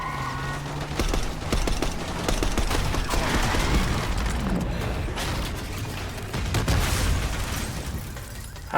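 Gunfire in the Call of Duty: Black Ops 6 campaign crackles as dense bursts of shots and booms from several weapons, with heavier blasts mixed in, spread loudly across the whole stretch.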